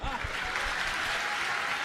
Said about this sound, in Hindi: सबसे ज्यादा रस रहे के श्रीमतियां ताली बजा रही है।